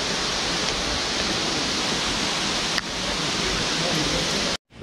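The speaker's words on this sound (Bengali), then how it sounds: "অনেক ঝর্ণার শব্দ শোনা যাচ্ছে" The Wei Sawdong waterfall near Cherrapunji roars as a steady, loud, broadband rush of falling water that fills the clip unbroken before cutting off near the end.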